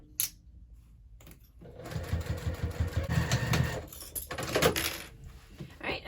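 A sewing machine stitches a half-inch seam on the sides of a hobo bag. After a brief quiet start, a steady mechanical whir runs with a slight pause in the middle before resuming.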